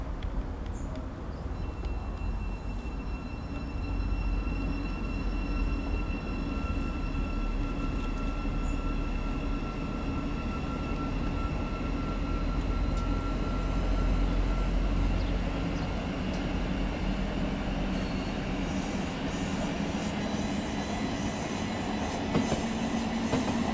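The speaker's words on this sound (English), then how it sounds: "And you can hear the AC traction motors." A Thameslink Class 700 electric multiple unit in Train Sim World 3 hums along with its AC traction motors, rising whining tones over a steady rumble and rail noise, continuous for over twenty seconds with no talk.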